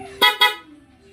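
Two short honks from a Yamaha NMAX motorcycle horn in quick succession, close and loud, followed by a low engine idle.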